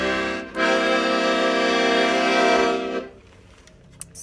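Piano accordion played on its left-hand bass buttons, a single sustained, buzzy reed chord held for about two and a half seconds, close and loud, then releasing into quiet room noise.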